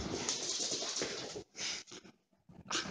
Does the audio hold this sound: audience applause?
no